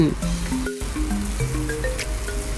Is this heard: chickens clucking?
no